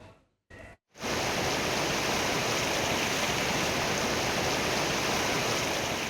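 Floodwater of the Chengi river, swollen by heavy overnight rain in Khagrachhari, rushes in a loud, steady roar that fills the scene after a brief broken start, with no voices over it.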